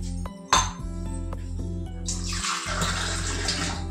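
Water poured into a cooking vessel holding rice and jaggery for a festival sweet: a sharp clink of utensils comes first, then a steady splashing pour that continues to the end, close by.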